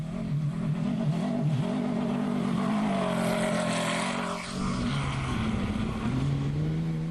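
Rally raid buggies race through a special stage, their engines droning loud and continuous with shifting pitch as they accelerate and ease off, one close behind another.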